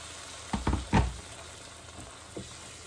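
Boiled water, about 500 ml, poured into a hot pan of sizzling spiced moth beans for matki pav, giving a few brief loud hissing bursts in the first second before the sizzle fades to a quiet simmer.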